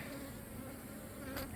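Honey bees from a strong colony buzz around pulled hive frames of mixed brood, a continuous close, steady drone with a brief louder swell near the end, no talking.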